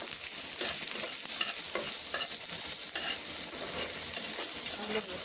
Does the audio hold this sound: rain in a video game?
no